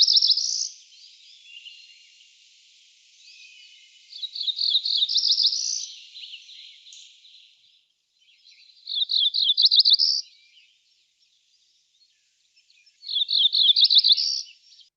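A warbler sings in the woods in a recording: high, buzzy trilled phrases repeated about four times with pauses between, clear but thin, with faint chips and rustle in the gaps and no talk.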